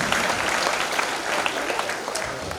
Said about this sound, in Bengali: একটু জোরে করতালি দিয়ে আমরা তাকে মঞ্চে স্বাগত জানাচ্ছি।